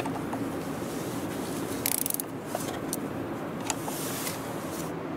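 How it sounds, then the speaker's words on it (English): A 10 mm socket ratchet tightens a bolt near the 12-volt battery of a Volvo XC40, giving a quick run of faint clicks alone over a soft background hum, with a few scattered light clicks afterward. "Use 10 millimeter socket. Tighten the bolt."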